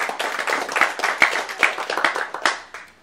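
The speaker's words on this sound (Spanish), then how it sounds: "Damos ese aplauso" A church congregation claps, a close, lively patter of hands with uneven rhythmic bursts that tapers off near the end.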